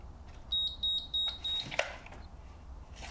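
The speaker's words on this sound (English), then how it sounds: "the valve is currently closed, but it is beeping" A Watts FloodSafe water heater leak-detection valve, running on low voltage with its valve closed, gives four short high electronic beeps in quick succession, followed by a faint click, against a quiet background.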